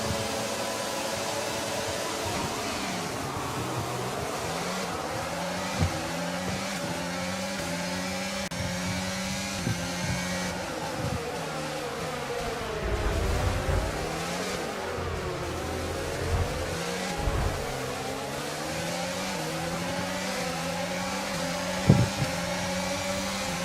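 F1 cars launching off the grid at a Grand Prix start in the racing video game F1 22, a dense roar of many engines revving and accelerating together, steady and loud with pitch sweeps and a few sharper bumps.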